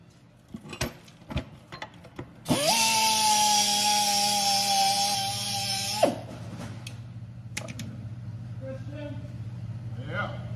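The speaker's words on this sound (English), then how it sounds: "I'm gonna clean up this rotor surface a little bit." A power tool grinds down the surface of a worn brake rotor and wheel hub on a Pontiac Grand Prix during a wheel bearing job, a steady high whine running about three and a half seconds between clicks and shop noises, fairly close.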